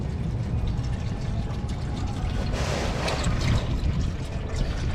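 Automatic transmission fluid (ATF) being poured into the transmission of a 2004-2008 Honda Fit during a fluid and filter service, a steady, close, continuous glugging pour that lasts throughout with no talk.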